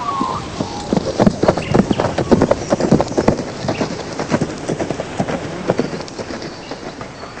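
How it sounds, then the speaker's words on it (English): Horse hooves clip-clopping as the horse is ridden, a quick, steady run of sharp close hoofbeats that gradually softens toward the end. "We rode our horses every day and loved them like friends."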